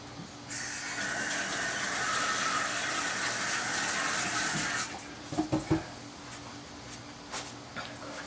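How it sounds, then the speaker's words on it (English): Water runs from a tap over rinsing hands in a kitchen while ribs are being prepared, a steady hiss for several seconds that then stops, followed by a few soft clunks and splashes. "I'm just going to rinse my hands off."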